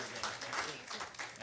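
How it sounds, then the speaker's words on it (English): Brief, fairly faint applause from an audience at a city council meeting, a steady patter of clapping lasting about a second and a half. "Give a round of applause for coming out."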